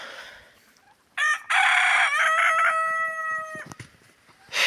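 A rooster crows once, a loud, drawn-out call near by, with faint clucking and scuffling from hens before and after.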